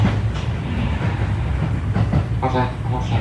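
A JR Central rapid Mie train pulls away from a station platform in Japan, a loud, continuous rumble with rhythmic clickety-clack of wheels on rail joints, and a voice faintly audible in the background.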